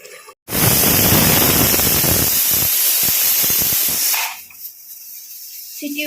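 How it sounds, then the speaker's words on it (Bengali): A pressure cooker cooking biryani vents a loud, continuous rush of hissing steam from its whistle for several seconds, then cuts off to near silence. "সিটি উঠে গেছে"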